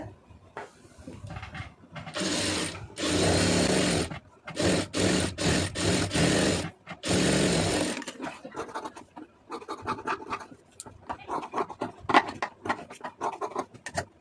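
A sewing machine stitches around the seam of a puff sleeve in several loud, steady runs with short pauses between them, followed by quieter handling of the fabric.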